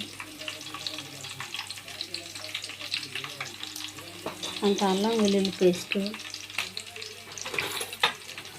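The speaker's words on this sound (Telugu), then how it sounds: "ఇప్పుడు గరిట తీసుకొని అటు ఇటు గోల్డెన్ కలర్లో కలుపుకోవాలి." Fish curry masala fries and sizzles in a village-style pot while a ladle stirs it with scraping and clinking. A steady hiss runs underneath, with faint voices in the background.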